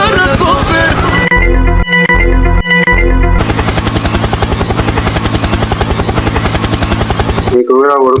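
A helicopter sound effect plays over a home kitchen scene during a first attempt at potato curry: steady rapid rotor chopping and a loud drone after a few bursts, close and continuous, with a voice heard briefly at the start and end.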